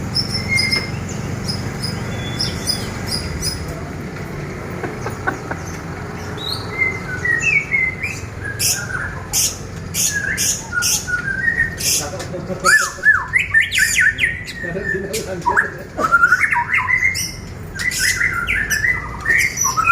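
Pastol bird singing at an evening training session, bright rapid chirps, whistles and squawks in bursts that grow busier toward the end over a steady background hum, with occasional voices faintly underneath.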